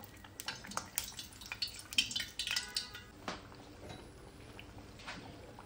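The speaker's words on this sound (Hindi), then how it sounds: "सेम इसी तरीके से सारी कचौड़ियां फ्राई कर लेंगे।" Kachoris deep-frying in hot oil: faint, close crackling and scattered bubbling pops, irregular and soft, with no voices.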